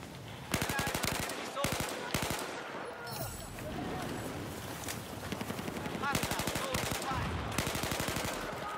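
Rapid bursts of gunfire in Battlefield 4, short clustered volleys of shots repeating several times with dense game-battle noise filling the gaps between them.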